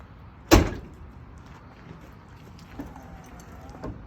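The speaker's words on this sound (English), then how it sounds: "shut the door for me" The heavy door of an older Ford pickup truck fitted with power running boards slams shut nearby with a sharp, solid thud, followed by quiet and a couple of faint clicks.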